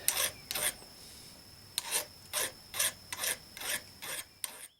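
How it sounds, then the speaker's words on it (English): Eight rasping file strokes chamfering the edge of a metal wrist pin bushing from a Volkswagen 1600 engine, evenly paced with short pauses, close and fairly loud, with a faint steady whine underneath. "put me just a little chamfer on this to help get that started through"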